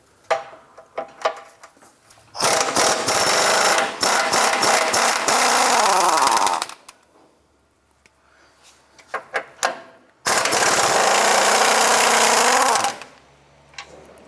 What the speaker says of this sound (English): Using an 18mm socket, we're going to remove this upper bolt here and the bolt inside this cross member.